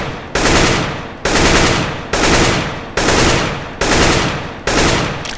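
Rifle gunfire in a Counter-Strike: Global Offensive one-on-one gun battle, six loud close bursts of rapid automatic fire in a steady rhythm, each cut off sharply before the next.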